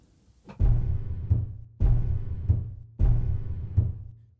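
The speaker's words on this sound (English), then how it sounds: "your pedal noise is your sustain pedal, if we listen carefully" Repeated soft thumps and muffled swishes of a virtual piano's sustain pedal being pressed and released, about three cycles in a steady rhythm, with faint resonance after each.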